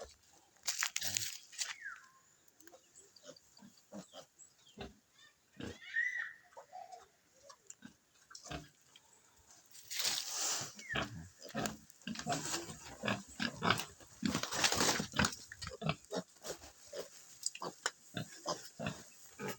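Pigs grunting and snuffling in a pen on a hot day at a backyard farm, with irregular close grunts, crunching and rustling scattered throughout, louder and busier in the second half.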